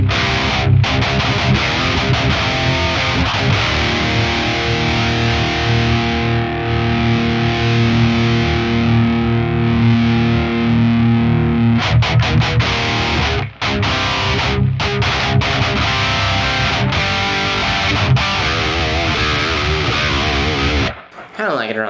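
Heavily overdriven electric guitar through an Axe Fx III model of a Carvin Legacy VL 100 amp, overdrive pushed high, chugging thick, distorted chords at high volume, steady and sustained with a few brief breaks near the end.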